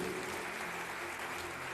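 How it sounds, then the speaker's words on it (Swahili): Applause in a church, a dense, steady burst of clapping from a crowd, moderately distant and continuous throughout, with no voices on top. "Mpigieni makofi mazuri."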